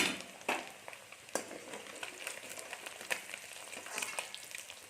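Eggs fry in a pan until browned, a steady soft sizzle and crackle with scattered pops, fairly quiet and close, with no talking.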